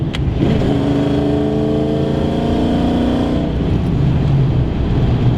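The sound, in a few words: Mustang V8 engine revving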